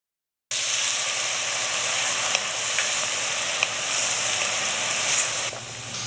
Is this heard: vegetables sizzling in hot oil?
yes